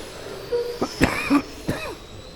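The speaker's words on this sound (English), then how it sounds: "Sorry about the cough there. Fighting a cold." A few short, close coughs in quick succession, followed by one more cough after a brief pause, against a quiet background.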